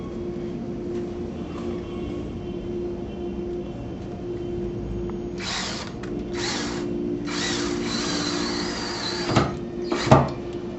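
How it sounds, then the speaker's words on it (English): A power drill drives a screw through the frame of a shutter bypass track box into a wall stud. It comes as several short whirring bursts, close and moderately loud, over a faint steady room hum. "Now that the hole is drilled, we can install our screw."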